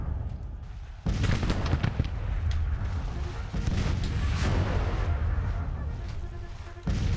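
Booming artillery fire in the Civil War strategy game Grand Tactician, a dense, continuous rumble of overlapping cannon blasts and distant explosions. The barrage sets in abruptly, rolls on loudly for several seconds, then drops off.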